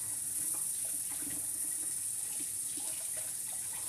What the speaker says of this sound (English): you gotta wash your celery